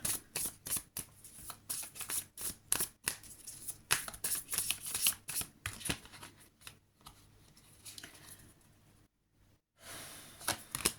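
Tarot cards being shuffled close up, a rapid run of crisp riffling bursts and soft card slaps in an uneven rhythm, with a brief pause near the end before more shuffling.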